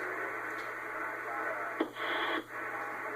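CB radio static-filled hiss during skip conditions, with faint, garbled voices bleeding through, steady and noisy with a couple of brief crackling bursts.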